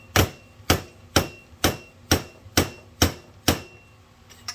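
A hammer drives a fork seal into place on a Suzuki SV1000 motorcycle, eight sharp, evenly spaced whacks ringing out alone and loud, each with a short metallic decay.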